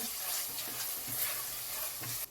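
Chole masala of sautéed tomato with sesame powder, cashew powder, coriander and mint powder is stirred in a hot pan, a continuous loud sizzle broken by several soft scraping strokes of the spoon before the sizzle cuts out near the end.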